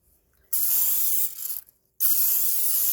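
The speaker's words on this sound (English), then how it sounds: "Spray this side." Two bursts of hissing cooking spray from an aerosol can, the first about a second long and the second a steady spray, separated by a brief pause, while preparing sourdough bread.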